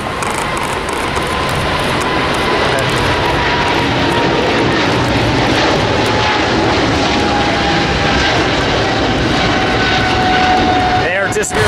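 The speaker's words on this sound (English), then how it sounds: "finally a plane taking off" A passenger jet taking off at LAX roars loud and steady throughout, with a broad rushing engine noise and a faint whine, close and constant.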